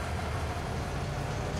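Train rumble in the video game Farming Simulator 22 on the Silverrun Forest map, a steady, dense low-pitched rolling drone that stays even throughout with no talk over it.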